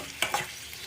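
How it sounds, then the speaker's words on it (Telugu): Onions deep frying in hot oil for chicken biryani give a close, steady sizzling hiss with a couple of brief louder crackles, and no voices. "ఆయిల్ వేడెక్కిందండి, ఆనియన్స్ వేసుకుందాం"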